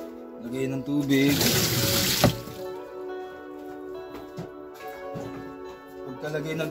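Water pours into the tub of a washing machine being fixed for a drain problem, a loud rushing splash for about two seconds near the start that then fades, with a person talking over it.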